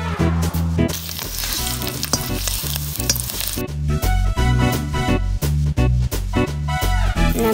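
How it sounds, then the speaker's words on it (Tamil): Mustard seeds, urad dal, curry leaves and onion sizzle loudly in hot oil, a dense, steady frying hiss broken by rhythmic clinks and scrapes of stirring. "கொஞ்சம் மஸ்டர்ட் போடலாம். கொஞ்சம் உதுதா, கொஞ்சம் கறி லீஃப், கொஞ்சம் ஆனியன்,"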